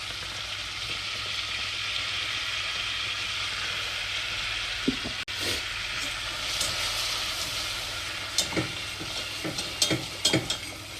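Butter and flour roux for béchamel being stirred over low heat, a continuous soft sizzle with scattered scraping and tapping strokes of the utensil growing busier toward the end, heard close with no talking.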